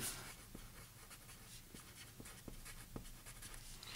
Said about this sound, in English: So write that underneath the line so it's here inside the pattern piece